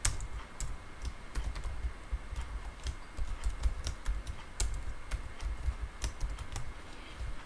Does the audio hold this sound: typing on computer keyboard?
yes